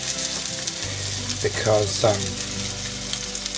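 A beef patty with onions sizzling in a pan for a double cheeseburger, a loud, steady close-up sizzle with a few louder bursts midway, and a voice briefly speaking over it.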